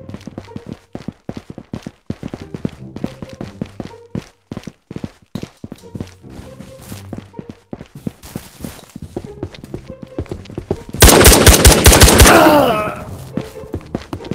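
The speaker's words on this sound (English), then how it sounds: "Shots." Gunfire in the VR shooter Ghosts of Tabor: a dense burst of loud shots near the end follows a long stretch of footsteps and scattered clicks and thumps, close and without talk.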